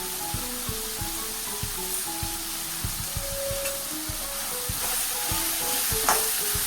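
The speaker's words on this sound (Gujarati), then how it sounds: "આવી રીતે સારી રીતે મિક્સ કરી લઈએ" Spiny gourd curry with salt and turmeric being stirred in a pan, a steady soft sizzle under repeated scraping and stirring strokes, close and moderately quiet, with faint background music and no talking.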